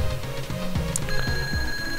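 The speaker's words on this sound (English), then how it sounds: "It's Mario, said the alarm clock." An alarm clock rings in the video game Super Mario RPG, rapid repeated bell-like chimes with a bright sustained electronic tone cutting in halfway, close and fairly loud.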